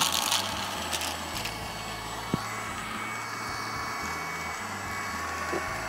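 A MOOSOO K23 Pro cordless stick vacuum runs at full suction on carpet, giving a steady whirring motor drone with a shifting low hum and occasional brushing rattles and ticks, fairly close, with no talk.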